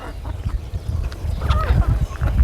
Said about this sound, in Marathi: बऱ्याच कोंबड्या आहेत बघा मित्रांनो